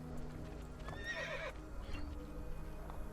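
A horse whinnies loudly in the video game Assassin's Creed II, with clip-clop hoofbeats and ambient game noise around it.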